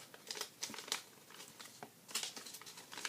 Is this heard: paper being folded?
yes